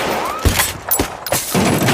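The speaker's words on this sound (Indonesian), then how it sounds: "tembakan ajudan Carnegie pun berkali-kali meleset" Gunfire in a tense film scene as an aide shoots repeatedly and keeps missing: a few sharp, loud shots go off at uneven intervals amid a dense action soundtrack.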